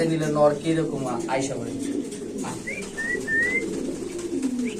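Caged pigeons at a bird market give low, rolling coos close by, with a few brighter chirps mixed in while people talk nearby.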